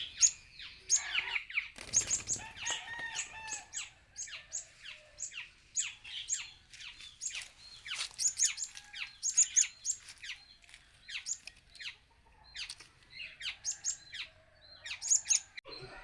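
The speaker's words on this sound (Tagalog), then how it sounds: "update nga rin nga pala sa tatlo nating kaibigan na kulasisi" Rapid high-pitched chirps and squawks from three colasisi hanging parrots, busy and continuous, close and fairly loud, with a brief rustle near the start.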